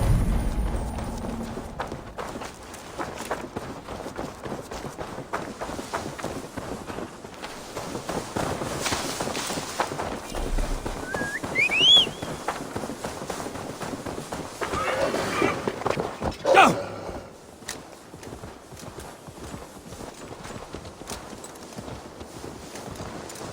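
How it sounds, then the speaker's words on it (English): Horse hooves clip-clop steadily in Assassin's Creed Valhalla as a horse is ridden to deliver it in-game, a continuous moderate-volume gait with an occasional whinny and ambient game sound beneath. "Now to deliver Magni his horse."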